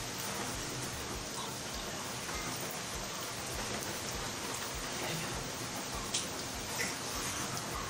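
Heavy rain falling at night in a home kitchen setting, a dense, steady hiss of drops on surfaces that stays even throughout with no voices.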